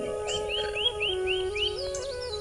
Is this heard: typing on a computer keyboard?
no